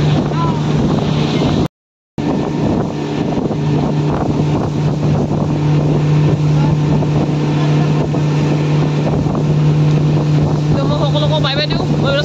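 A speedboat runs on Umiam Lake near Shillong, its engine a loud steady drone under heavy wind buffeting on the microphone, with a brief dropout near the start.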